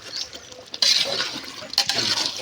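Water poured into a cooking pot while preparing a festival-day meal, a bright splashing gush that starts abruptly, briefly pauses, then resumes close by.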